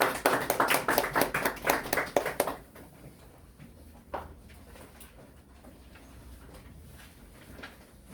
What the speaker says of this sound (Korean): 자, 박수로 맞이해 주시죠.